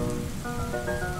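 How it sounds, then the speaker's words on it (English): Rain falls steadily in an animated children's nature story, a soft, continuous hiss of drops with a faint tonal hum underneath and no speech. "It is raining."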